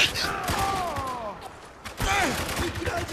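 Heavy gunfire in Spec Ops: The Line, a dense clatter of shots and impacts packed into a few seconds, with someone speaking German over the battle noise.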